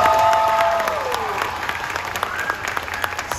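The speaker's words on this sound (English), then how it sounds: "Everybody give Scott a big round of applause." An audience claps and cheers at a second-grade school talent show, strong at first and then tapering, with a few scattered voices and a tone sweeping down through the crowd noise.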